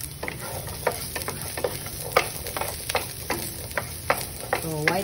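Onions and spring onion whites fry in a pan with a steady soft sizzle, broken by repeated scraping clicks of a utensil stirring against the pan.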